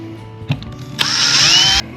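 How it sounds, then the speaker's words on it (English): A power drill fitted with a 5/8 bit runs loud and close as it bores into a plastic pencil holder, holding a steady whir for almost a second after a couple of light handling knocks. "we're going to take a 5/8 drill, and we're going to drill a hole right down to the bottom"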